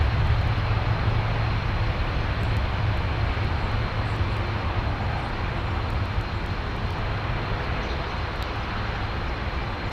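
A Lockheed C-130 Hercules passes over Heathrow with a steady, loud broadband engine roar and deep low rumble, sustained throughout with no voices.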